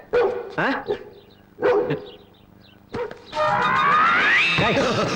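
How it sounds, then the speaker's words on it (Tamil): A police sniffer dog in a comedy film scene barks several times, with loud close barks coming in quick bursts, then a sweeping swell of sound takes over. "இது நம்ம டிபார்ட்மெண்ட் மோப்ப நாய்."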